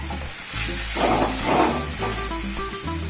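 Tadka masala, ginger paste and green chili paste sizzling in a hot pan, a continuous close hiss and crackle that swells gently midway, with faint stirring and no voices.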